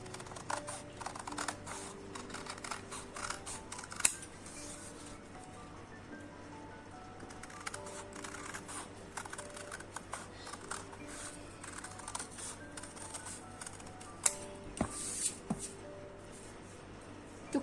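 Scissors snip through a paper mask covered in feathers, giving a steady run of small, close crisp clicks and rustles with a few sharper cuts, with no talking.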